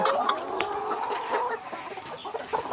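Many chickens cluck and murmur together in a busy chorus inside a poultry farm shed with a fogger running, a constant soft clamor with occasional louder calls.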